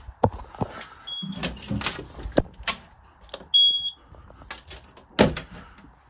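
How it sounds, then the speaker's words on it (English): Two short, high electronic beeps from a fire alarm panel sound a few seconds apart, amid clicks, clunks and handling noises in a quiet room during an exit sign inspection. "as well as the fire alarm panel beeping"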